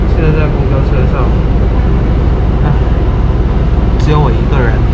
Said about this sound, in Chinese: 现在在公交车上